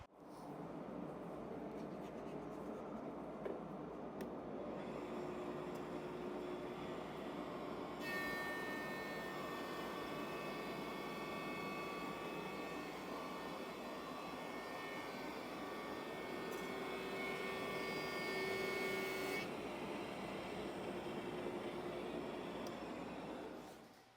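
An Oliver 15-inch benchtop planer runs steadily with its dust collector, a loud continuous machine roar; a brighter high whine joins partway through as a board feeds through, then drops away near the end.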